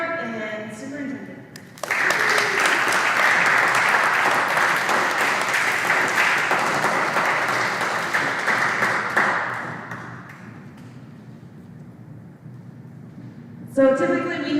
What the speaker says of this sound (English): let's give a round of applause for our school board and superintendent